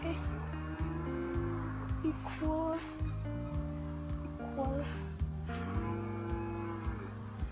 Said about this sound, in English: you can hear cows moving